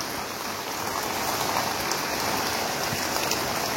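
Morning rain falls steadily on surfaces outdoors, a dense, even patter that continues throughout with no voices.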